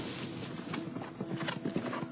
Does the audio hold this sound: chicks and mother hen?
no